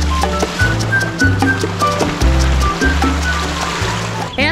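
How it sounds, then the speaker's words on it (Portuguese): Calm sea water at a small sheltered beach in Mangaratiba, Rio de Janeiro, gently lapping and sloshing in a steady, continuous wash close by, with no talking. "viemos até a prainha, que é onde tem a água bem calminha"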